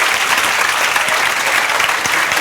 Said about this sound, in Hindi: जोरदार तालियां बजाओ बेटा इनके लिए।